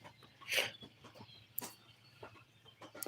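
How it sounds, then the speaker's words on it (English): Chickens cluck and squawk nearby, with a few sharp loud calls standing out over quieter scattered clucking. "Birds are all loud."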